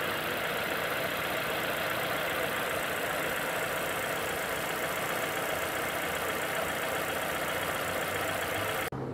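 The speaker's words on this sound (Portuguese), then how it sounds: "Apresentando agora um pouquinho do motor em funcionamento." A 2021 Chevrolet Onix Joy Black idles in a steady, even engine hum with a fine mechanical clatter, close up and unchanging, ending in a sudden cutoff.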